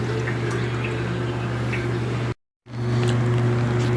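Dark engine oil pouring steadily from a GMC/Chevy 5.3L truck engine, a continuous loud liquid rush with a low hum, briefly cut to silence before resuming.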